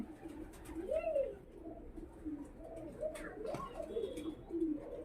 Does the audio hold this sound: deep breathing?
no